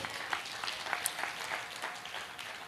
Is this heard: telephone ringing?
no